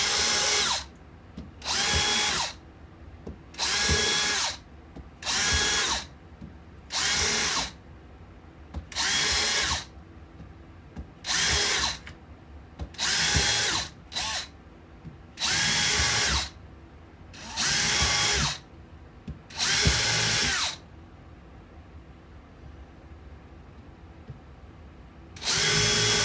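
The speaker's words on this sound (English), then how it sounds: "first thing I'm going to do is drill the holes for my trees" A power drill bores holes in a model railroad scenery hill for trees, running in about eleven even bursts of two or three seconds each, separated by short silences, loud and close with no talking.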